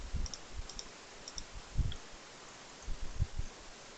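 Light, scattered keystrokes tap on a computer keyboard in short clusters, soft and fairly close, separated by quiet gaps with a faint background hiss.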